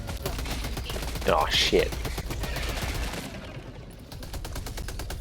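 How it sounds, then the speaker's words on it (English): Rapid, evenly spaced SMG bursts from Helldivers 2 gameplay, loud and continuous through the whole stretch, with a brief startled exclamation from a player partway through. "Is it me, by the way, or is this SMG like the same sound as that turret?"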